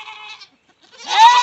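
A goat on a farm in Asheville, North Carolina bleats twice, a short nasal call and then a louder, longer wavering bleat, close by.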